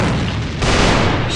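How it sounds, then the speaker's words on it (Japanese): Grenade blast in a tactical shooter game, a loud close boom swelling into a heavy sustained rumble that fills the whole short moment. "手榴弾よ、手榴弾。"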